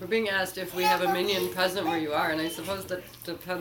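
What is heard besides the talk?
None of the usual background noises is heard.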